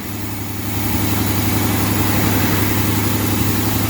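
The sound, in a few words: 2006 Buick Lacrosse engine running rough after starter replacement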